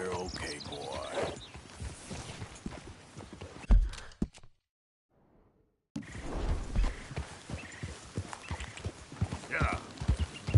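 A horse's hooves clop in a steady walking rhythm, close by and mixed with talking voices, then drop to near silence for a moment before the clopping and speech pick back up.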